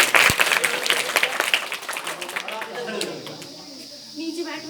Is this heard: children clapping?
yes